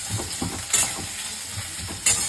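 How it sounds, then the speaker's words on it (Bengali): Onions sizzle in a hot pan while a spoon stirs them, giving rhythmic scraping strokes over a constant close frying hiss, with two sharper clanks against the pan. "এই যে সুন্দর করে ঢেলে দিলাম এখানে পেঁয়াজ। পেঁয়াজগুলো একটু নাড়াচাড়া করে নেব।"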